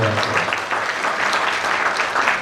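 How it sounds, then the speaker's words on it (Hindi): A live audience at a Hindi comedy poetry show claps loudly and steadily for a couple of seconds, with a dense, even wash of hands. "एक बार जोरदार ताली बजाओ"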